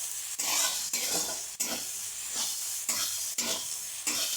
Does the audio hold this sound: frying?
yes